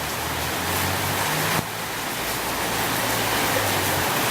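Steady, dense rain falls in Koh Samui, Thailand, a continuous even hiss filling the clip with a brief bump partway through.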